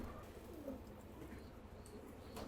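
Soft coos from racing Giribaz pigeons bathing in the rain murmur faintly against a quiet, steady background hiss of rainfall.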